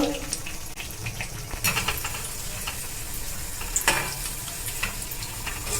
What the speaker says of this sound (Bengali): আমি এইভাবে ভেজে নিচ্ছি দেখুন সব কটা এইভাবে ভেজে নেব